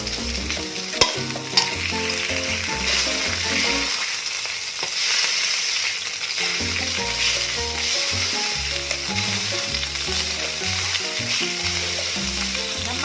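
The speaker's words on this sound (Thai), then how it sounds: "เราก็ใส่เครื่องแกงนะคะ แล้วก็กะปินะคะลงไปผัดนะคะ" Thai curry paste and shrimp paste stir-frying in a pan for a fish curry, a loud continuous sizzle with steady stirring and occasional clinks, close and without talk.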